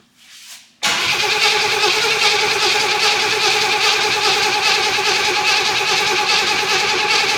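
A 1977 Pontiac Grand Safari station wagon engine, neglected for decades, cranks over steadily and loudly with the throttle worked, a continuous grinding turnover running without pause after a brief faint noise at the start.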